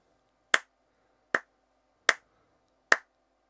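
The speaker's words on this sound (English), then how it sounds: "Now listen first to the rhythm that I clap and then copy it back." Hands clap out a short rhythm to copy, four crisp, evenly spaced claps, close and clear with quiet between them.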